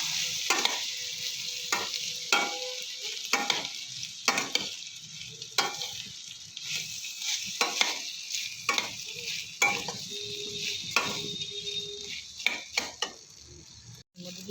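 Marinated rice frying in ghee for pulao, a soft continuous sizzle broken by repeated scraping and stirring strokes of a spatula against the pot, fairly quiet and close, with no talking.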